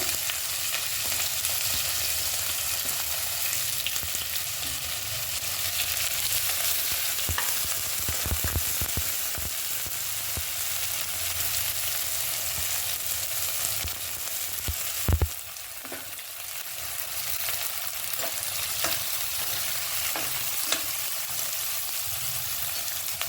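Onion fries with asafoetida, mustard seeds and cumin in a pan, making a steady close sizzle that lasts a long time, with occasional clinks and stirring knocks. No one speaks.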